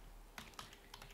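A few soft, scattered keystrokes on a computer keyboard while entering an Excel formula, quiet and close with no talking.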